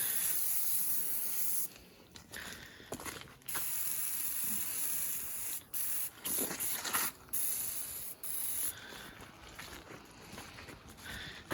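Aerosol degreaser or oven cleaner sprayed onto LS cylinder heads, several close, loud hissing bursts of varying length separated by short pauses and faint handling clicks.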